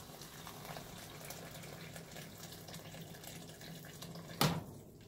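Boiling water, about two glasses' worth, is poured into a cooking pot of meat. It makes a faint, steady wash of liquid noise with one brief sharper splash near the end.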